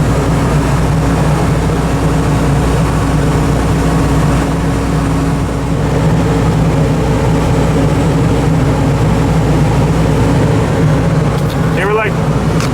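A heavy equipment engine runs loud and steady at close range, its low rumble climbing slightly from idle, with a brief squeal of a passing sound near the end.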